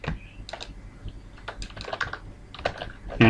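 Rapid keystrokes on a computer keyboard while writing C++ code, irregular clusters of clicks up close, with a louder clack near the end.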